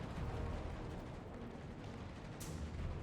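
Naval gun shells firing in a warship battle game, heard as a dense, steady rumble of distant broadside fire with one brief sharper burst near the end.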